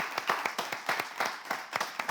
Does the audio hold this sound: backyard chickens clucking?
no